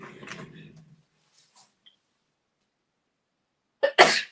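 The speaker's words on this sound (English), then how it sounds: "Sneezing." A single sharp, explosive sneeze bursts out near the end, close and loud, after a brief rustling sound and a few faint clicks in otherwise quiet indoor surroundings.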